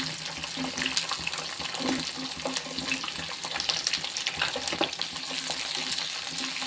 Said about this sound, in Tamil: இது எல்லாமே நல்லா வதங்கி வரணும்.